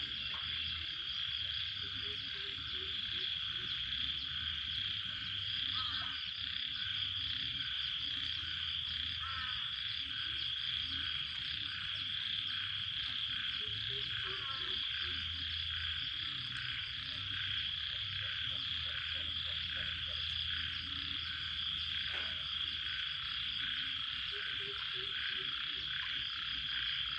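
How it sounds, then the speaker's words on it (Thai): Frogs croak in flooded rice fields after rain, a dense continuous chorus of rapid calls with faint insects, steady and close with no talking. "มีเสียงกบร้องด้วยเนาะ"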